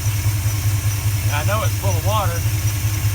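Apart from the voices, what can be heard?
car engine running with 4-barrel carburetor on 2-barrel intake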